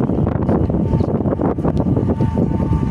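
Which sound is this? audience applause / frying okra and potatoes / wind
wind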